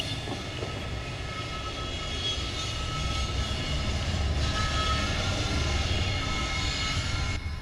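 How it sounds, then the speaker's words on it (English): A train idling on a track near a bicycle tour route begins to move, giving a steady, loud rumble of engine and rail noise that holds at an even level throughout with no speech. "Someone tried to sneak in behind, and boom, the train started moving."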